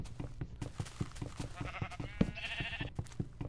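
Several sheep bleats from Minecraft, quavering calls heard up close over a steady rhythmic game background, with no one speaking.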